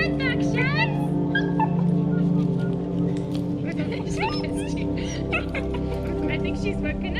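Rescue dogs just off a flight from South Africa to Ireland whimper, whine and yip in repeated high bursts, close by and mixed with people talking and a steady engine-like hum underneath.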